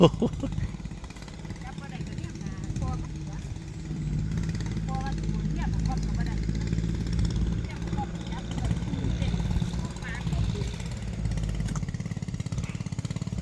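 A petrol engine water pump runs in a steady, rough, low drone that continues throughout, with people talking over it.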